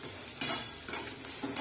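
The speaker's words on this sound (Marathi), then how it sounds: "मस्त असं आपली फोडणी भाजलेली आहे।" Spices for a tempering sizzle softly in a pan while poha chivda is being made, with a few brief scraping stirs over the quiet fry.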